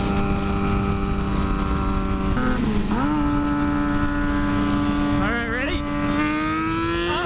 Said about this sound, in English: I'm gonna race the Gixxer 1000 in low power mode